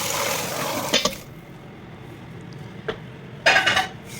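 Boiled chicken lifted out of a cooking pot for washing, with short bursts of splashing water and clattering utensils around 1 s and again near 3.5 s, between quieter stretches of low kitchen background.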